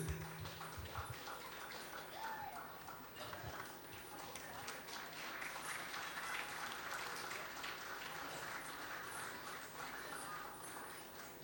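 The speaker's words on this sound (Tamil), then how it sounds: "நல்ல ஒரு பெரிய அப்ளாஸ்" Large audience applause after a children's dance performance at a music academy event, a dense steady crackle of many hands filling the whole stretch, with some voices and crowd noise underneath.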